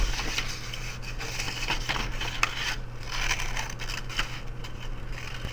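Paper flower petals being cut with scissors, a run of crisp snips and rustles of paper at close range, irregularly spaced over a low steady hum, with no talking.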